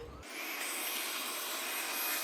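An iLife Shinebot W455 floor-cleaning robot starts up in spot-cleaning mode, a steady close whir with a rising high whine that settles and holds throughout, with no talking.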